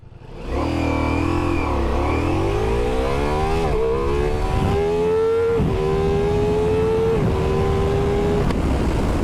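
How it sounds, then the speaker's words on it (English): A Ducati Multistrada V4 motorcycle at full throttle, close and loud, its engine snarling upward through several gears, with a sharp shift break each time before the pitch climbs again, then easing off at the end. "That's full throttle, wheelie controls off."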